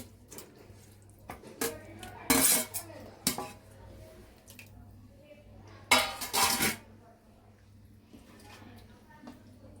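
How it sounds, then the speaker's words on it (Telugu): Fried broad beans tipped into a metal pan for a Godavari-style curry, with a few loud clattering scrapes of spoon against the pan between quieter moments while a person talks. "ఇప్పుడు మనం చిక్కుడుకాయ వేయించి పెట్టుకున్నాం కదండి చిక్కుడుకాయ వేసుకుందాం ఇందులో"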